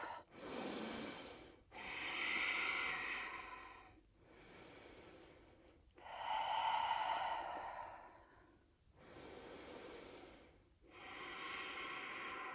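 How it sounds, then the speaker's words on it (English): Deep abdominal Ujjayi breathing during a Warrior 1, 2, 3 yoga flow: long, airy inhales and exhales alternating steadily, close and clear with no talking. "The deep abdominal breathing, perhaps Ujjayi breath."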